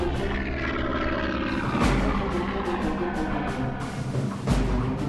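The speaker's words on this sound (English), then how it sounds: "A Lockheed P-38 Lightning, an unusually quiet aircraft for a heavy fighter, creeps in." A Lockheed P-38 Lightning, a twin-engine heavy fighter, drones past at an air show in Germany or Austria, a steady propeller-engine hum that swells and fades as it passes, moderately loud and alone.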